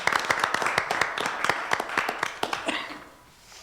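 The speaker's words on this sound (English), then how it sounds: "And again, I'll take a round of applause for her." Applause at a city council meeting, a group of people clapping with sharp distinct claps that thin out and fade toward the end, leaving a quieter room.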